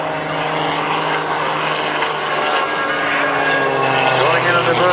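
A home-built propeller aerobatic plane flying low over an air show, its engine drone loud and steady with a shifting pitch as it climbs, and a commentator's voice talking over it.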